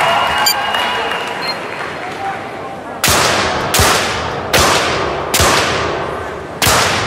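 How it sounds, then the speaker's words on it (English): Five sharp, loud pistol shots in men's 25-metre rapid fire Olympic shooting ring out at a steady, fairly quick pace, each with a brief echoing tail, after a few quiet seconds of background. "the first round of the men's 25-metre rapid fire is ready to go"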